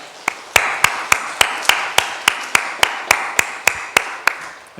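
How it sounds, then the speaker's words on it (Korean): A church congregation claps in thanks in unison, a loud, even beat of sharp claps at roughly three per second. "이들을 위해서 감사의 박수 한번 하겠습니다."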